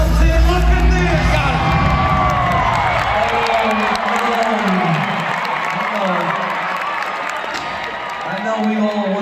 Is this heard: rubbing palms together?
no